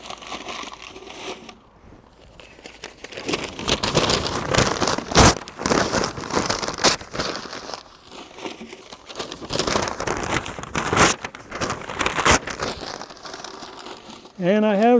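Newspaper being torn and crumpled by hand as tinder in a Breeo X24 firepit, a busy, continuous crinkling and ripping texture close to the mic with a few sharper tears, under occasional talk.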